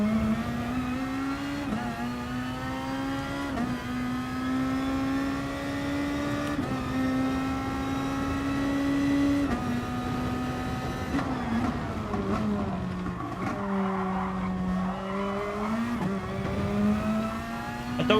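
Race car engines in the racing video game Gran Turismo Sport drone steadily and loudly, their high-pitched tone climbing and dipping with gear changes and throttle shifts, with no voices over them.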